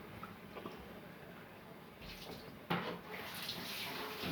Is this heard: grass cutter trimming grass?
no